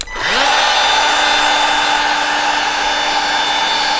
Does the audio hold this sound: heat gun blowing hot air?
yes